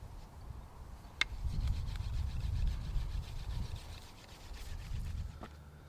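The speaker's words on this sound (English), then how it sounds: "we'll burnish, we'll flip it around, we'll sight down our dart, and we'll focus on the areas we missed" A wooden atlatl dart shaft is burnished by hand, giving soft, continuous rubbing and friction strokes up close, with a couple of faint sharp clicks along the way.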